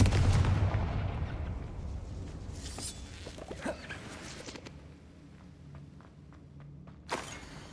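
Confringo fire spell blasting in the video game Hogwarts Legacy, a rumbling burst with crackling debris that fades into quieter game ambience, then a second sharp hit near the end.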